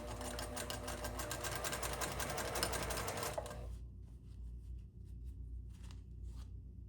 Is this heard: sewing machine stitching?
yes